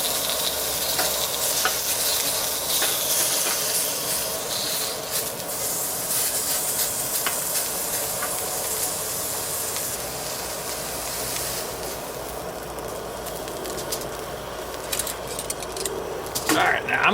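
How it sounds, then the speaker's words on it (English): Pot roast meat sears in a pan on a camp stove, sizzling steadily and loudly throughout, with occasional scraping and clinks of a utensil and a rattle near the end. "We just want to sear it off a little bit."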